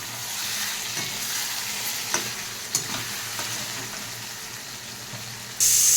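Meat being stirred and fried with chilli powder in a pan for a Bengali home curry, a steady close sizzle with soft scraping stirs and a couple of sharper clinks, continuous throughout.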